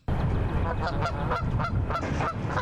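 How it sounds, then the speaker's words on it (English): A goose that wandered into a coffee shop on a university campus honks repeatedly and loudly at close range, a steady run of harsh, nasal calls filling the indoor space with little else audible. "It's believed the goose had wandered in through a sliding door."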